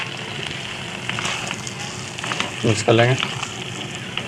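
Fried beef kebabs and tomatoes going into a hot pan of curry gravy, giving a steady sizzle with a louder burst of frying and stirring midway while a voice talks over it.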